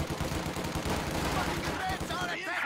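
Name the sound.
machine gun fire in a video game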